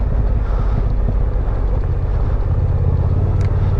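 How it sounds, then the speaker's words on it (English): A vehicle engine-braking down a loose, rutted dirt road produces a continuous low rumble and drone mixed with rough wind and road noise, steady and close throughout. "we're still just kind of engine braking our way down this loose, kind of rutted run"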